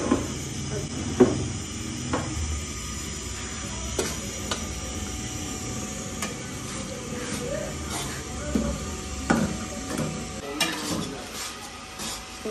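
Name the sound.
stirring and roasting gram flour with spoon over low flame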